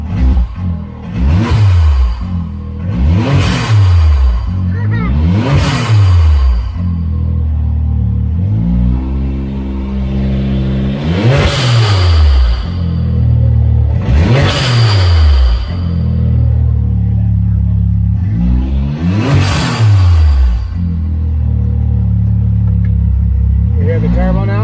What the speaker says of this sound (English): See what this thing sounds like. We give it a little bit of rev.